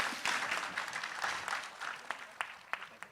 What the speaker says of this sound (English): let the claps keep coming